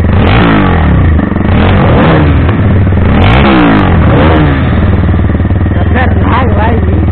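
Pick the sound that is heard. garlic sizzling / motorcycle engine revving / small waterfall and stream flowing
motorcycle engine revving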